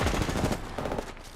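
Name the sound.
gunfire while being shot at, from a video game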